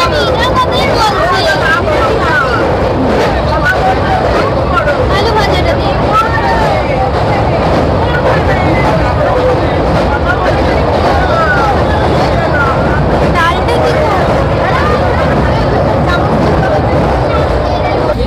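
Sealdah–Puri Duronto Express train running at night, a loud continuous rumble and rattle of the carriage filling the whole stretch, with people talking over it.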